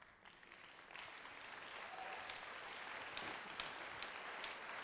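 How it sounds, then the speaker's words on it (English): Audience applause at an anniversary and homecoming church convention, a steady wash of clapping from a crowd that holds at an even level throughout. "Keep on clapping."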